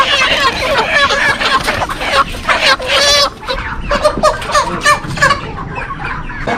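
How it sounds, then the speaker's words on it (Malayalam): Chickens cluck steadily and densely at a poultry farm at night near the Kerala–Tamil Nadu border, close by, with overlapping calls throughout and a faint murmur of voices in the background. "അവിടെയാണ് കോഴികളെല്ലാം നിൽക്കുന്നത്."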